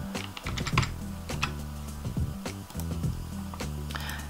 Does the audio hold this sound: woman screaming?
no